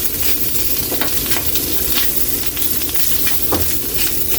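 Milkfish fillets frying in oil until browned, a loud, dense and constant sizzle with faint clinks and a soft bubbling pop near the end.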